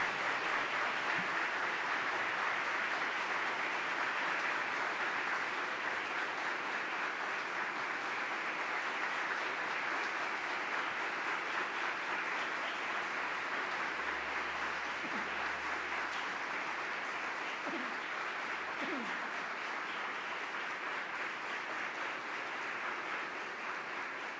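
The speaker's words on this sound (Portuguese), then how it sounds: "conosco o reverendo William Souto Santiago e o recebemos com um forte aplauso" A church congregation applauding a visiting reverend during a service, a long, steady wash of clapping that holds at an even moderate level throughout.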